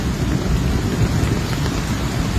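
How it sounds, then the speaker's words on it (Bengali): Heavy monsoon downpour during flooding in Feni and Noakhali, Bangladesh, a dense, steady roar of rain with low thunder rumbling underneath, loud and continuous throughout with no voices. "আকাশে প্রচন্ড বৃষ্টি, বজ্রপাত দেখতেছেন, প্রচন্ড বৃষ্টি এবং বজ্রপাত।"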